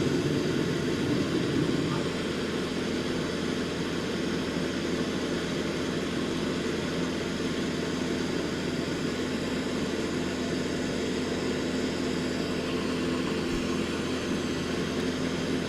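Boeing 787-9 jet engines at full throttle in Microsoft Flight Simulator 2024, a constant loud roaring drone with a steady hum, unchanging throughout.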